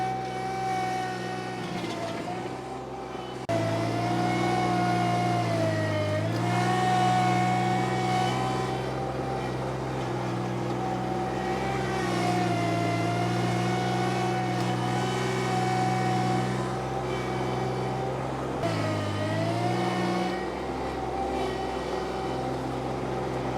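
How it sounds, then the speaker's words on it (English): A power rake engine running steadily while pushing dirt during final grading, a loud, close mid-pitched motor drone with small pitch dips as it loads under the work, continuous throughout. "you can move a big pile of dirt with a power rake"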